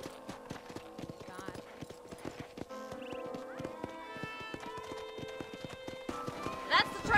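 Horse hooves clip-clop in quick repeated beats with a whinny partway through, from the video game Red Dead Redemption, heard alongside game music and ambience at moderate loudness.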